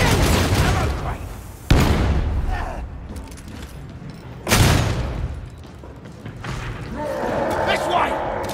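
Explosions and gunfire in the co-op shooter Warhammer 40k: Darktide, with two sharp heavy blasts and rolling booms amid a chaotic battle din, under shouting voices.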